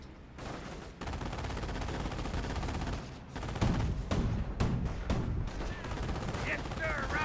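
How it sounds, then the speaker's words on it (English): Dense, sustained gunfire from the Company of Heroes 1 video game, rifles and machine guns rattling continuously with occasional heavier bursts, loud and unbroken across the whole stretch. "Our squad takes some fire"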